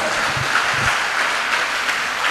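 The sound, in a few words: congregation clapping loudly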